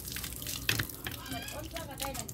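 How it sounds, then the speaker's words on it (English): Clean water runs steadily from a tap over hands being washed, a close gurgling flow with a few drips, while a person talks over it. "so it's just going to wash my hands. See, the clean water is so fresh."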